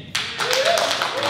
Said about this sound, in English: give a round of applause if you're vaccinated.